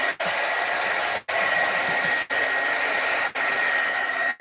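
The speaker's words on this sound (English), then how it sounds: "going to hit this with my heat tool just in case" Craft heat tool blowing hot air over a stamped card, a steady whooshing hum in several bursts of about one second, each broken by a short gap as it switches or moves.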